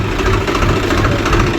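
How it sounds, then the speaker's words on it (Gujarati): Farm tractor engine pulling away during maize threshing work, a steady loud diesel chug with rapid knocking pulses running through the whole moment, close by and without talk. "તો ગાઈસ ટ્રેક્ટર પણ જાય છે હવે"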